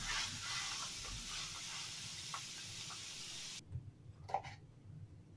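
Meat sizzling in a frying pan, a steady hiss of frying for several seconds that cuts off abruptly, leaving quieter kitchen sounds and a few faint clinks.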